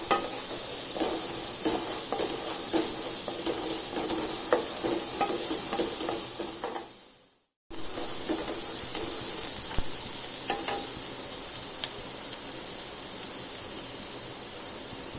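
Onions sizzle steadily in a pan for a spinach and corn pulao, with stirring scrapes and small pops throughout, a brief drop to near silence midway before the frying hiss resumes, no voices.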